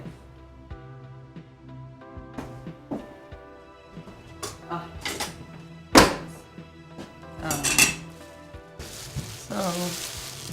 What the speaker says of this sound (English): take your kale, chop it.